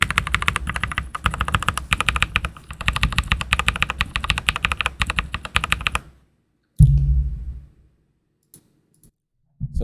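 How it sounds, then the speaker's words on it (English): Rapid typing on lubed mechanical keyboard keys, a close stream of muted, rounded keystrokes for about six seconds, then near silence broken by a single heavier thud and a few faint clicks. "Here's what the lubed sounds like."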